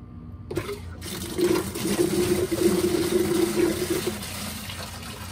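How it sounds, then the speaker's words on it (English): Water rushing out to a drain as a well tank valve opens, a steady gurgling flow that starts abruptly, holds for about three seconds, then fades, close and alone without talk. "when I opened up that valve, well, for it to suck that water in, it had to let some out."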